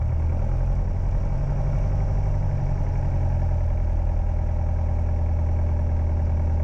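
A light training aircraft's piston engine idles steadily and loudly from inside the cockpit, a continuous low rumbling drone with faint rhythmic clatter and no talking.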